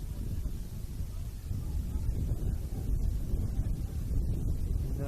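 Strong wind buffets the microphone at an outdoor football match between Altona Magic and St Albans Saints, a steady, loud low rumble throughout with no clear talk.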